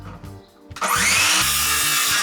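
A saw cuts through 3x2 inch treated timber being made into desk legs, a short burst of rough, loud cutting that starts abruptly after some faint handling noise.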